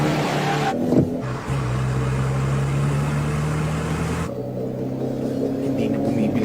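Car speeding downhill in an Initial D mountain race, a steady droning engine tone that holds level and then shifts pitch partway through, loud and continuous with no talking.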